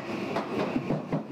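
A Japanese commuter train on the Osaka Loop Line rumbling steadily along the rails, with a low continuous roar and faint rhythmic clatter from the wheels, no voices.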